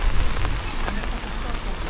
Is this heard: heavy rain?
yes